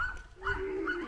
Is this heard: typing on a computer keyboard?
no